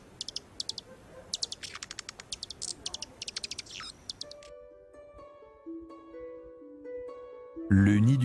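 Songbirds chirp in quick repeated bursts over a faint insect drone, then a sparse, tonal whistled melody of calls follows, ending with a louder, sudden burst of sound.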